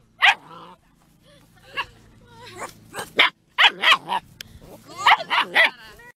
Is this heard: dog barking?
yes